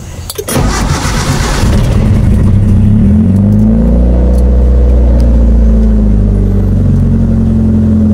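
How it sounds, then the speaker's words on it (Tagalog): A 1993 Mitsubishi Lancer Evo 3 cranks over and catches on a cold start, then settles into a loud, steady, slightly high idle right up close with no talking. "Subukan na natin paandarin mga boss. Pakinggan nyo yung andar niya."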